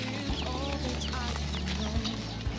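Hens cluck steadily in short, overlapping calls, close by, after being given grain feed, over a constant low hum and some background clatter.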